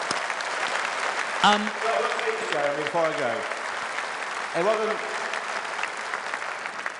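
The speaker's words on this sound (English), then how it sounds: "we should give Richard Tice... Should give him a big round of applause for Tice" A big rally crowd at a Reform UK event applauds for Richard Tice, a steady wash of clapping from the room throughout, with a voice speaking loudly over it.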